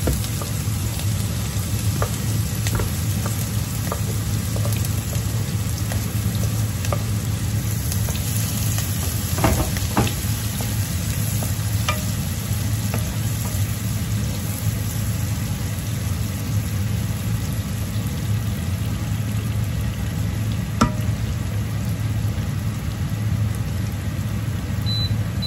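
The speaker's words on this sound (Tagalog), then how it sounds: "Mag-iisa na tayo guys ng sibuyas" Sliced onions sautéing in a pan for a meat sauce spaghetti give a long, even hiss of frying with scattered faint clicks of stirring over a low background hum, heard alone without talk.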